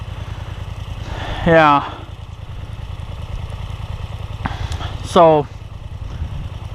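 An engine on the vehicle called Big Red idles steadily with a low, even throb that continues throughout, while a person talks briefly over it twice.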